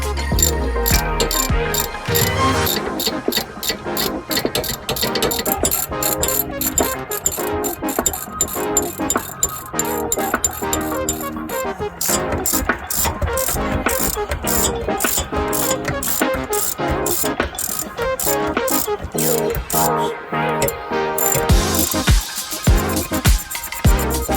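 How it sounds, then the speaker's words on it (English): A ratchet clicks rapidly and steadily while removing the rear brake caliper bolts on a high-mileage Honda Accord, a close, continuous metallic ratcheting with brief pauses and clanks of tools near the end. "we're gonna take out the 2 bolts that's actually holding the caliper on"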